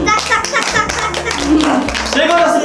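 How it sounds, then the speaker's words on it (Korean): An audience claps during a lively kids' food-guessing game show pitting squishy toys against real food, with the clapping heard under excited voices and cheering throughout. "박수 한번 주세요"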